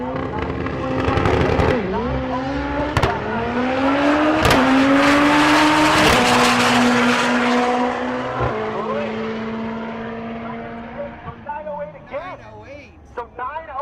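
Race cars, Honda Civics among them, roar on track at a race week, engines droning and shifting through gears with sharp tire-squeal bursts, a commentator talking over the noise as it fades toward the end.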